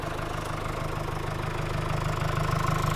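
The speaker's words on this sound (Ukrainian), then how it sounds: "Робота двигуна. Ну так, звісно. Цікаво, що там у нас. Це і двохлітровий дізель." A two-litre diesel engine in a 2020 Mercedes-Benz Vito van idles steadily with a low, rumbling knock and faint mechanical vibration, close and continuous with no talking.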